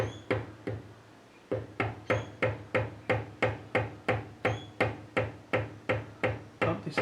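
Sharp, evenly spaced knocks from a hammer tapping a machinist's vise to shift it, about fifteen strikes in steady rhythm with a brief pause near the start, close and loud with no talking, in a shop during a fly cutter build.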